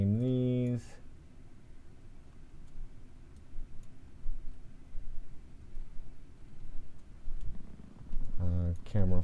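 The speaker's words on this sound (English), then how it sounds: "I'm typing one-handed and running the mouse with the other hand" Light, irregular keyboard clicks tap one-handed at close range while the other hand works a mouse, between short stretches of a voice speaking.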